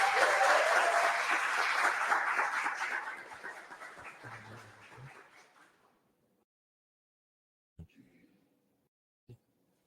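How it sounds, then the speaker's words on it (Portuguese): A lecture audience applauds loudly and steadily, then the clapping fades away over several seconds, followed by near silence with a couple of faint knocks. "então uma salva de palmas para ele"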